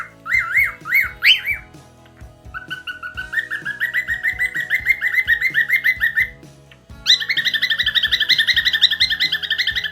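A pet parrot chirps and whistles in bright, rapid repeated calls, loud and close, with a brief lull before a denser, louder burst of chirping near the end; faint household thumps sit underneath.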